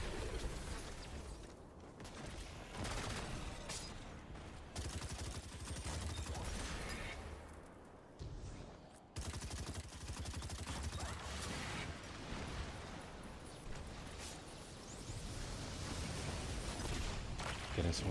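Rapid, dense bursts of gunfire from a gun in the Destiny 2 video game, loud and nearly continuous, with a brief dip midway before the shooting resumes.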